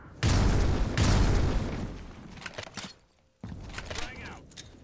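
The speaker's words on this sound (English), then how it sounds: "Tossing frag." A frag grenade blows up in a competitive tactical shooter match, one loud, close boom that rolls off over a couple of seconds, followed by a short silence and then softer clatter and background game noise.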